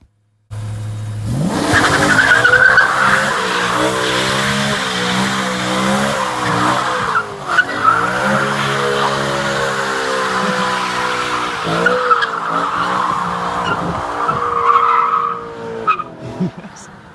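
A BMW revs hard as its tires squeal and skid in long wails, the engine note rising and falling through repeated slides, loud and close throughout.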